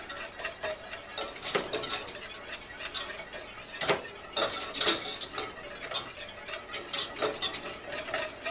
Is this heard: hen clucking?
no